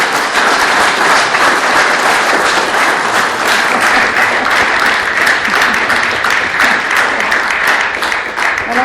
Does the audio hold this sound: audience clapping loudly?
yes